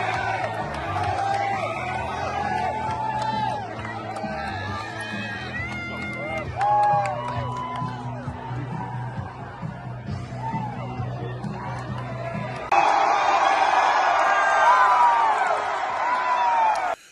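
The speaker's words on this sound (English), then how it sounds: "Pretty big crowd, as you can see." Large, mostly young crowd gathered before a Charlie Kirk event, a lively hubbub of cheering, yelling and whoops with scattered voices, swelling louder toward the end.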